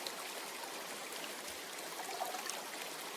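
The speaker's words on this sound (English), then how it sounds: "Running water nearby." Running water from a stream in the Metaphor: ReFantazio video game gives a steady, soft hiss and babble, even and unbroken, with no voices.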